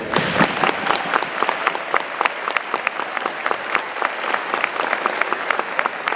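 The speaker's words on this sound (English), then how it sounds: "we'd like to give you a round of applause" Audience at a December jazz concert applauding its educators, a dense, steady round of many hands clapping close by that runs the whole stretch with a faint murmur of crowd beneath.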